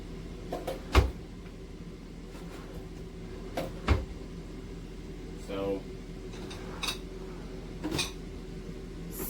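Drawers in an RV slide shut without soft-close hardware, giving several sharp, separate knocks and thumps spaced a few seconds apart over a quiet room hum.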